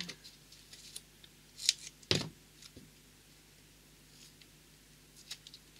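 Scissors cutting paper for an iris folding craft project, a few short snips and crisp clicks, the loudest near the middle, close up and otherwise quiet with faint handling rustle.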